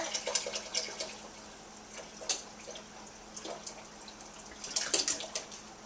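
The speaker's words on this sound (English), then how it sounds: "And just pour it all in there" Vegetable juice pours and splashes in short bursts into a pot, with intermittent gurgles and spatters at close range.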